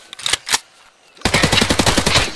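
Rapid automatic gunfire in an arena shooter video game, a few loud bursts first, then after a brief lull a sustained, dense barrage of shots close to the player.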